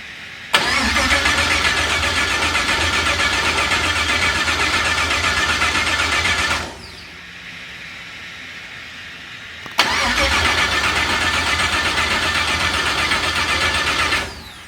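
An LS-swapped Nissan S14 fires up for its first start, the V8 catching with a sharp crank and settling into a loud, rumbling idle, cutting off for a few seconds, then restarting and idling again close by.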